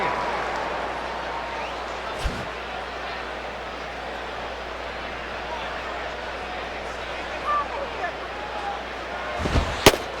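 Steady, diffuse murmur of a stadium crowd at an afternoon Mets at Marlins game in MLB 08: The Show, with a couple of sharp knocks near the start and end.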